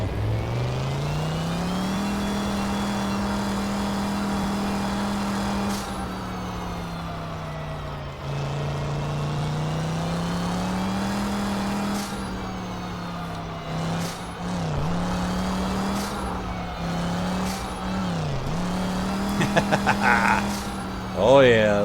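A sofa speed racer vehicle drives fast in Garry's Mod, its steady engine whine droning loud and continuous, rising and falling in pitch as it accelerates, with a few bumps and clatters near the end.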